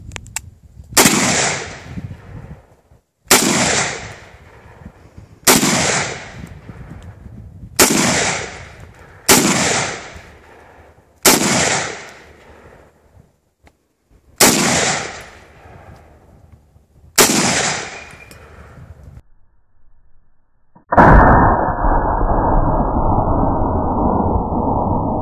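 An M1 Garand rifle fires eight sharp, loud shots at targets, spaced about two seconds apart with short echoing decays, followed by a steady mechanical ring.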